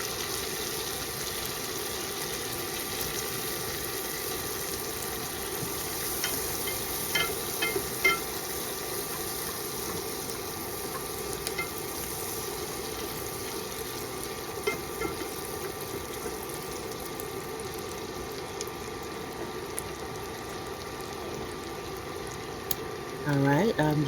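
Chopped onions sizzle in a hot pan while seafood cooks, a steady continuous hiss with faint crackles and pops, close and moderately quiet, holding evenly throughout.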